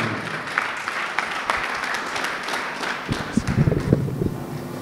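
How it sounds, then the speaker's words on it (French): Applause from the audience at an official university ceremony of a faculty of letters and human sciences, scattered clapping that thickens into louder, denser bursts toward the end, with some wind rumble. "J'aimerais sous vos applaudissements, mesdames et messieurs, appeler le président de l'amicale de la faculté des lettres et sciences humaines Moustapha Stephen Damsen."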